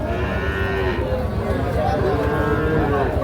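A young Sahiwal bull moos in a long, loud, drawn-out bellow close up, with other cattle and crowd noise of a busy cattle market behind.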